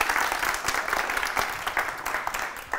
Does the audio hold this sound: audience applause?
yes